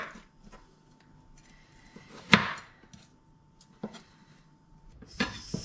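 A knife cuts thin slices of frozen bitter gourd (korola) on a board, giving a few sharp taps over a low background hum with no voices.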